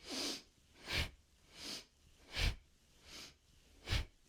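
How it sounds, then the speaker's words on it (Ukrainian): Loud, deep breaths close to the mic during a yoga exercise, alternating inhales and exhales in a slow, steady rhythm, about six breaths with no talking. "Дихання достатньо голосне, відчутне, щоб ви розуміли вдих-видих."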